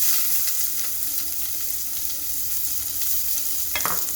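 Onions sizzling in hot oil in a pan during Indian home cooking, a steady close frying hiss with a brief clatter of stirring near the end and no talk.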